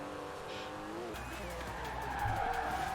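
A supercar drifts in Forza Horizon 4, its engine roaring steadily as tire squeal rises over the racing game sound, with a voice talking faintly in the mix.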